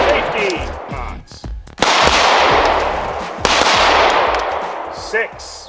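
Pistol shots are fired at a target during a training drill, a few sharp, loud cracks with ringing metallic decay spaced out over several seconds, with brief spoken commands between them.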